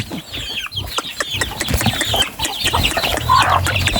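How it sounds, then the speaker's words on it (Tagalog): Several chickens cluck and chatter close by, overlapping short calls in a busy, continuous flock sound. "Kasalo din po itong mga manok."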